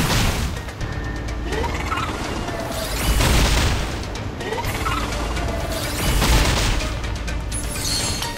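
Explosive barrage attack in the video game Reverse: 1999, a run of loud booming crashes with two heavier impact surges, layered with sharp hits and game effects.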